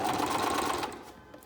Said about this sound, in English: And now we're going to start sewing.